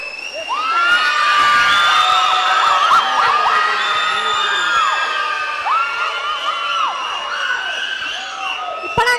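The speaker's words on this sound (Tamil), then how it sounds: "ஒரு நல்ல கைத்தட்டல் கொடுத்தலாம்." A crowd at a live Valli Aattam performance cheers loudly, with shrill whoops, whistles and excited shouts overlapping continuously throughout, close and dense.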